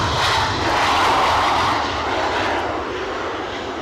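An airliner's engines roar loud and steady during a positioning flight to Manchester from Edinburgh Airport, a dense continuous rush that eases slightly toward the end.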